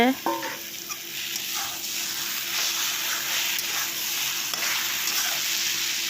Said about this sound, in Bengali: দেখো পেঁপেটাকে ভালো করে ভাজা করে নেব তারপর আলু লাল করে ভেজে রাখা আলুগুলোকে এখন ঢেলে দেওয়া হয়েছে